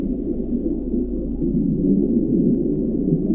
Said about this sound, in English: Marine mammals, some of them, especially the larger whales, can make very intense sounds.